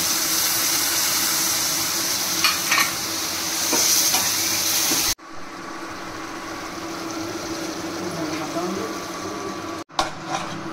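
Oil sizzles steadily in a pan with a stirring clatter as spices and yogurt fry for egg curry, loud and close; the sound cuts out briefly twice before the frying continues.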